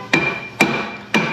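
Hammer tapping around the rear brake drum of a Ford/Fiat car, three evenly spaced metallic knocks with a short ringing tail after each, close and clear with no speech.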